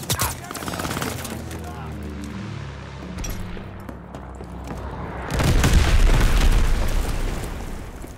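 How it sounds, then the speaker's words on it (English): Friendly bombing run in the Call of Duty: Vanguard video game: a sustained roar of overlapping booms and blasts with scattered gunfire, swelling heavier toward the end, loud and dense. "Friendly bombing run on the way."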